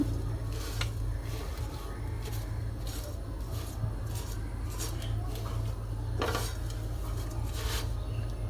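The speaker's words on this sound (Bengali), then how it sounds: "যেহেতু আমাদের সেমাইটা ভাজা, তারপরেও আমি আরেকটু হালকাভাবে ভেজে নিচ্ছি।" Vermicelli lightly fried in ghee, stirred with faint metallic clinks and scrapes against the pan, set against a constant low rumble of background hum.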